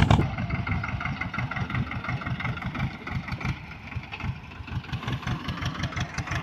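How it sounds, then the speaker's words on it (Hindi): A small tractor engine runs nearby while preparing planting beds for custard apple plants, its mid-pitched rhythmic chugging steady and close throughout. "ये ट्रैक्टर आया हुआ है, छोटा ट्रैक्टर"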